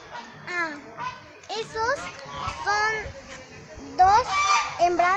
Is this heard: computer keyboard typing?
no